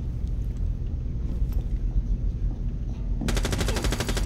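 Gunfire in Rainbow Six Siege, a low rumbling background of muffled shots and movement, then a sudden loud, rapid automatic burst near the end, close and crisp.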